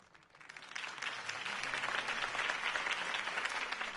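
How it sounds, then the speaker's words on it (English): Crowd applause rising after a political campaign speech in a Batman video game, a dense wash of many hands clapping that swells and holds steady, fairly loud with no talk over it. "If only Mr. Wayne, my campaign's largest backer, could have heard that applause"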